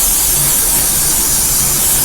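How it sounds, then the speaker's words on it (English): Aerosol spray is applied to a wig as a steady, close, continuous hiss that lasts the whole moment without pause, with no voices. "Now comes the part we actually spray."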